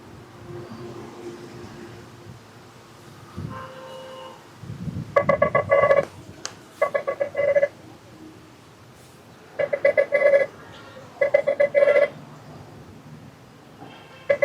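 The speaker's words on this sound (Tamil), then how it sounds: "ஃபோன் ரிங்காது ஃபோன் எடுக்க மாட்டேங்கிறாரு" A mobile phone placing an outgoing call, with dial tones and repeated ringback bursts in short regular pairs, heard close over faint room noise.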